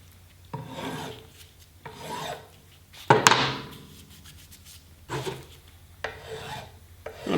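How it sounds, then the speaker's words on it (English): Hand file rasping across a 1954 Chevy steering wheel during restoration: a few separate scraping strokes spaced a second or so apart, close and fairly quiet, with one sharper, brighter stroke in the middle. "I think I got a little overzealous with some of the filing"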